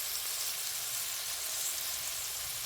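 Garlic frying in a pan for a beet greens side dish, a steady soft sizzle with fine crackling hiss, continuous and close, with no talking.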